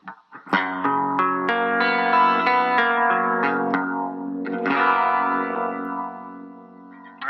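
An electric guitar strums a rich chord, then picks out ringing notes that sustain with a chorus-like shimmer, close and clear.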